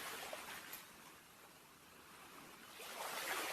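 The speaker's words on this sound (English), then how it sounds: "You can hear the gentle waves." Gentle ocean waves wash onto a beach, a soft, faint hiss that swells, fades and swells again over a few seconds, heard alone without talk.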